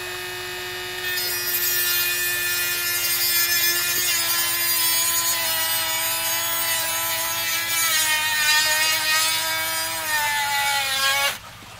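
A small power tool fitted with a cutting head grinds steadily through a coconut shell, a loud continuous whine with shifting pitch that runs close up for about eleven seconds before cutting off abruptly.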